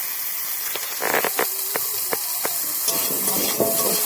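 Diced potatoes being sautéed in a pan for a cabbage fritter curry hiss with a loud, bright, steady sizzle, punctuated by a series of sharp spatula scrapes and taps, close up and with no voices.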